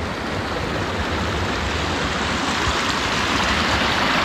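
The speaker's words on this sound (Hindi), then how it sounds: "तो ये है भाई गदेरा, यहीं से हमको पानी लेके जाना है अपनी गौशाला की तरफ।" A mountain stream runs through snowy Himalayan terrain in Auli, Uttarakhand, a steady, loud, close rushing of water that never lets up.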